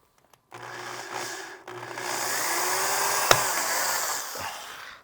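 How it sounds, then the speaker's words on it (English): A small drill bit bores a pilot hole, the motor starting abruptly, whirring steadily and loudly for about four seconds with a sharp click midway before spinning down. "I'm going to take my little drill bit here. I'm going to drill a little pilot hole"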